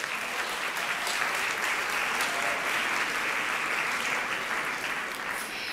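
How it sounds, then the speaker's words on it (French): A hall audience at the national final of the science-thesis contest 'Ma thèse en 180 secondes' gives dense, continuous applause. The clapping stays full and even throughout. "Merci pour ces applaudissements pour Denis Billotte"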